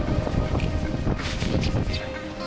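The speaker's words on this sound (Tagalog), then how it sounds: "Weather is not sunny, pero grabe yung hangin." Strong wind on Boracay roars and buffets the microphone continuously, a dense rushing noise with gusty swells throughout.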